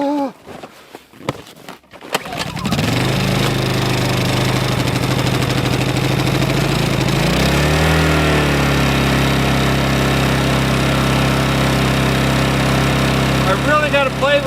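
A small engine at a cabin in brutal winter cold sputters, then catches and runs loud and steady, its pitch shifting as the choke is adjusted, with voices nearby.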